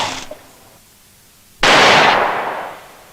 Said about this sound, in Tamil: அப்புறம் துப்பாக்கி சத்தம் கேட்டுச்சு சார்.